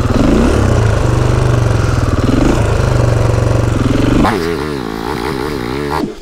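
A motor scooter engine revs loud and close with a buzzing, rising and falling drone, then drops to a rougher, lower idle in the last two seconds.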